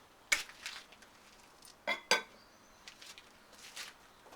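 Glazed pottery pots in black clay with a khaki brown chattered finish clink and knock together as they are handled, two sharp ceramic hits standing out among lighter scattered clatter, close and fairly quiet.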